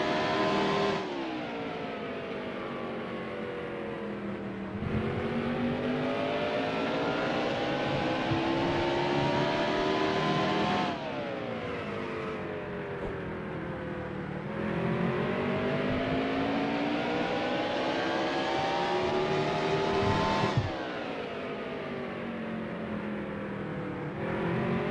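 Race car engine lapping Martinsville in NASCAR Heat Evolution, a loud close V8 roar that climbs on each straight and drops off sharply into the corners, repeating in a steady lap rhythm with no speech.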